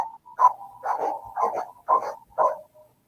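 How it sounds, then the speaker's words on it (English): A squeaky, well-used chamois cloth rubs against a surface in five or six short, rhythmic squeals, close up and fairly loud, with brief pauses between strokes. "That's the sound of a well-used chamois."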